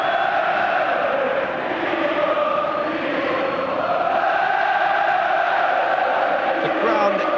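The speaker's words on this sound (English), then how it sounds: "The crowd booming with noise from Palace supporters" A dense, continuous roar from Crystal Palace supporters in a packed stadium at an FA Cup semi-final against Liverpool, loud and sustained with swelling chants throughout.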